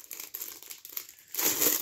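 Plastic bags crinkling while pompoms are unboxed, close crackling rustles that grow louder and denser toward the end.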